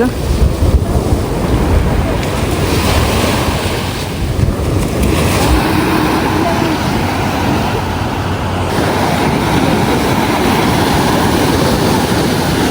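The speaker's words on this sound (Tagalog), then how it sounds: "Lakas po ng alon." Strong sea waves churn and roar continuously on a fishing boat during net fishing, heavily mixed with buffeting wind noise against the microphone, loud and close throughout.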